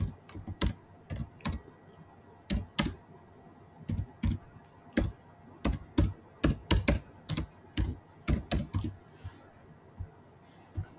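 Keys clatter on a computer keyboard as a role name is entered, a quick uneven run of light clicks with short pauses over a quiet background hum.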